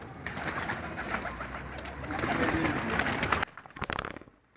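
Pigeons coo close by in soft repeated throaty calls over busy background noise, with faint voices nearby.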